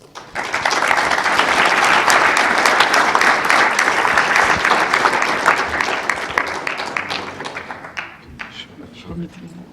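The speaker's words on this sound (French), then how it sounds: "on peut encore applaudir Clarisse" Sustained audience applause at an award ceremony, swelling after a quiet start and tapering to sparse claps near the end, with some voices underneath.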